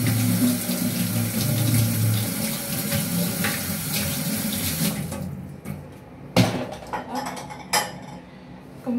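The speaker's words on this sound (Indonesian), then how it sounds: "Kemudian tambahkan 10 mangkok air ya pemirsa." Water pouring into a cooking pot for chicken and seaweed soup, a steady splashing stream that stops midway, followed by a few sharp clanks of metal pot and utensils in a kitchen.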